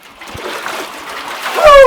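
Water splashes and trickles as someone moves into an ice-cold plunge, close and fairly loud for a couple of seconds, ending with a sharp vocal exclamation.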